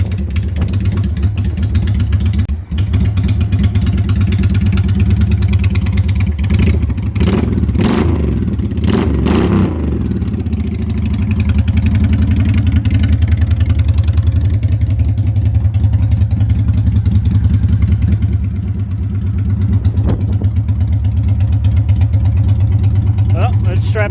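A Honda Shadow motorcycle fitted with R&R carbs idles in the cold, its engine a loud, steady low thump with occasional throttle blips, while someone talks over it.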